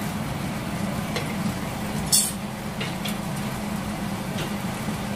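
Masala for chicken chaap stir-fried in a pan, with a steady low sizzle and occasional clinks of a spoon or spatula scraping the pan, close by and without talk.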